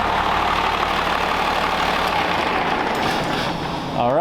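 A Cummins diesel swapped into a 1965 Ford F600 truck idles loudly and close by, a steady dense rumble that holds even throughout with a slight shift in tone right at the end.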